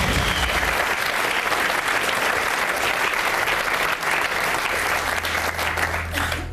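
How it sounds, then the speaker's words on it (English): Studio audience applause on a game show, a steady wash of clapping hands sustained for several seconds at moderate loudness, slightly subdued, tapering a little near the end with no talk over it. "Slightly muted applause there."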